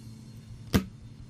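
A Microsoft Surface Book keyboard releasing from its detach mechanism gives a single short, sharp crunching click, close and brief, against a quiet background.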